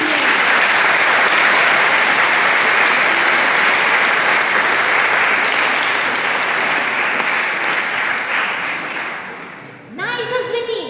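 Audience applause at a children's choir concert marking a tenth anniversary, a loud, sustained clapping of a full hall that fades near the end before a voice begins.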